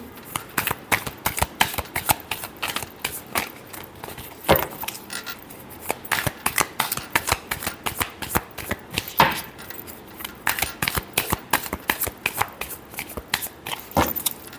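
A deck of tarot cards being shuffled by hand close up, a busy run of riffling flutters and crisp slaps in rapid bursts with brief pauses between them, no voice.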